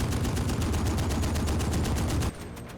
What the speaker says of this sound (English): I hear gunfire from somewhere and I don't know who's shooting.